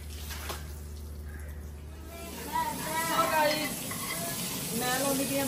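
Dal tadka tempering sizzles steadily in a pan, a continuous crackling hiss with occasional stirring, heard close up while someone talks over it.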